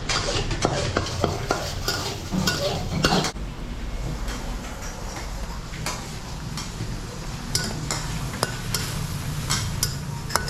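Thai green curry is stirred and fried in a pan at a Bangkok cooking class: a steady sizzle under repeated sharp clinks and scrapes of a utensil against the pan, close and busy.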